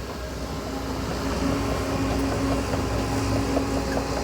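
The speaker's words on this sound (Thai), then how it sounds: "มาแล้วครับ10ล้อคันแรกครับ" A ten-wheeler truck pulls into a gem-mining work site in Udon, its engine a steady, continuous low rumble with a constant drone underneath and no voices.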